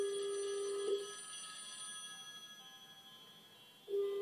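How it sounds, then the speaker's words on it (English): A rotary-dial telephone bell rings in a sustained trill, pauses for a few seconds while the tone fades away, then starts ringing again. "Now you can hear this ringing."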